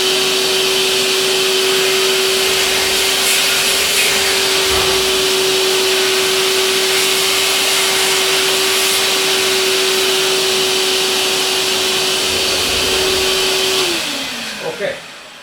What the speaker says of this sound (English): now I will do a little bit vacuuming here